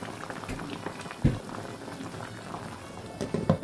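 Fish curry simmering in a pot after broth is added, a steady bubbling boil with soft liquid pops and a few louder splutters, heard close up with no talking.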